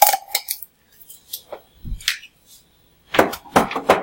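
Metal tablespoon dropped into a kitchen sink while honey coconut biscuits are being made. Scattered sharp clinks and clatters come in two bursts with quiet gaps between them, close and fairly loud, with no talk.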